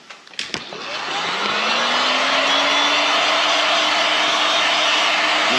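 Heat gun or hair dryer blowing on pink vinyl covering film, switched on after a few clicks and then a loud steady rushing whine that rises in pitch and holds, close to the mic.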